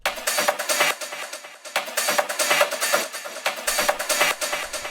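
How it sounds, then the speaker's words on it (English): 90s-style techno rave drum loop: a steady, loud, bright pattern of crisp hi-hats and snare hits with a repeating groove, looping several times without voices. "the last thing from the drums is this little rave loop here"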